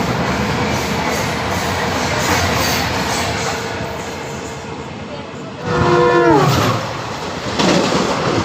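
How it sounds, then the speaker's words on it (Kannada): An express passenger train runs along the rail with a steady rolling rumble and clatter, a horn-like tonal blast rising partway through, and a voice speaking over the noise. "KSR Bengaluru Belagavi super fast express."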